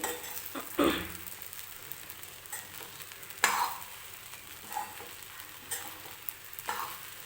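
Sabudana khichdi is stirred in a hot pan with soft sizzling and several scraping strokes of a spoon, a few of them sharper, all fairly quiet and close.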